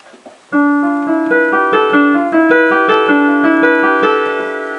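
Plucked or struck melodic notes enter together and overlap in interlocking repeating lines, a steady instrumental canon with no voices.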